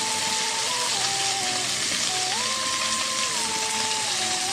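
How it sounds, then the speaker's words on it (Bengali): Fish frying in a pan, a steady dense hiss and crackle of hot oil that holds at an even level throughout, alone with no talk over it. "মাছ ফ্রাই হয়ে গিয়েছে প্রায়।"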